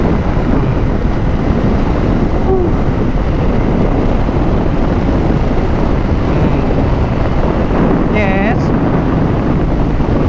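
Steady roaring wind buffets the microphone of a rider on a Suzuki GSX-R motorcycle, a loud, constant rush that persists throughout.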